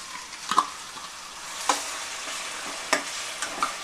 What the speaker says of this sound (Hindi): 1 मिनट के लिए प्याज हम धीमी आंच में पकाएंगे